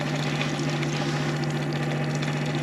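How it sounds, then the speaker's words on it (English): A small electric pump running on an 18-volt battery drains water out of a boat, giving a steady, close mechanical hum with a strong low drone and no talk. "Well, it needs that to pump all the water out."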